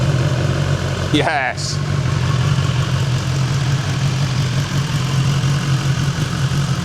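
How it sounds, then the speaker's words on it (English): A 2019 BMW S1000 XR Triple Black motorcycle, warmed through, idles with a steady, close, low engine hum that runs throughout, with a short spoken word near the start. "Let's hear it run."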